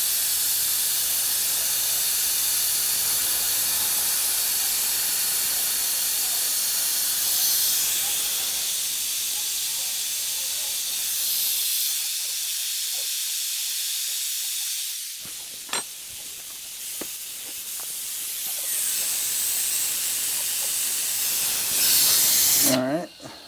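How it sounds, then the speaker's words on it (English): Compressed air hisses loudly and continuously through a front brake line removed from a 2024 Triumph Bonneville Bobber, blowing out brake fluid, with sputtering spurts and shifts in pitch near the end. "Now we can hook up the air. Turn that on and get all the fluid out."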